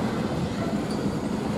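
A CN freight train rolls past in the rain, giving a steady, close, continuous rumble of railcars and wheels with no talking.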